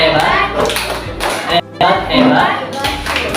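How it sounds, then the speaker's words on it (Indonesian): A primary school class claps a rhythmic cheer for a group, patterned bursts of hand claps close by and loud, with children's and a teacher's voices mixed in. "Tepuk hebat untuk kelompok 1"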